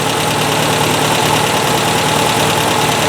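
A 1978 Toyota Corolla engine idles loudly and steadily at close range after dropping off high idle, with a constant rumble and faint knocking vibration.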